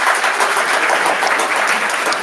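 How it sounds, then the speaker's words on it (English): Audience applause at a lightning-talk session, a dense, even burst of clapping that fills the whole moment without a break. "please give the speaker a big round of applause"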